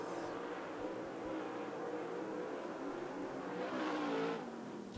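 SWDRA late model race cars in a heat race at Canyon Speedway Park, engines droning steadily from a distance and swelling slightly as the pack passes, with no voices.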